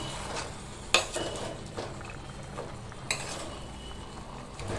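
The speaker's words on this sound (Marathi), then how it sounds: "हे मिश्रण आहे ना परत असं व्यवस्थित मिक्स करून घेऊया" A spoon scraping and turning a mixed vegetable and papdi (flat bean) bhaji in a pan, with soft sizzling and a couple of sharper knocks against the pan, close and steady, no voices.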